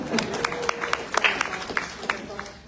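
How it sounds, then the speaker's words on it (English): A book launch audience claps briefly for a poetry collection, scattered individual claps fairly close and moderately loud, with a voice speaking over part of it. "So, round of applause for yourself."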